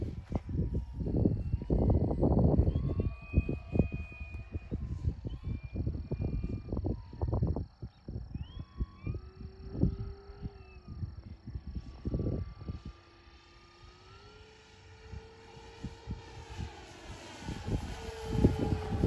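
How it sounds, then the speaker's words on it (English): A small electric RC model plane, an FMS 1700mm Corsair, whines overhead at half power, its pitch rising and falling as it passes, with gusty wind buffeting the microphone throughout. "Very smooth flying airplane"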